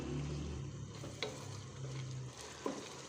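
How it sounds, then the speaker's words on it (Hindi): Mixed vegetables cook with ginger and garlic in a pan for masala rice, giving a quiet, steady sizzle with a few soft stirring scrapes. "एक से 2 मिनट अदरक और लहसुन के साथ इनको कुक करेंगे।"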